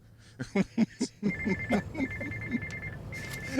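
A cell phone rings in short repeated electronic bursts beneath someone talking on a horse racing broadcast covering the Breeders' Cup, the ring fairly close and partly masked by speech.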